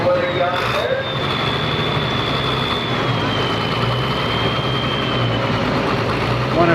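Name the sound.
tractor engine running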